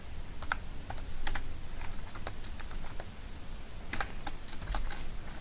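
Keys on a computer keyboard are tapped in short uneven bursts while entering data into Tally ERP9 accounting software, close and fairly quiet.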